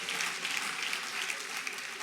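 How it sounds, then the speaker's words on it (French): An audience at a stand-up comedy show claps together in a dense, steady burst of applause, loud and close, lasting only a moment. "c'est là qu'on applaudit tous ensemble"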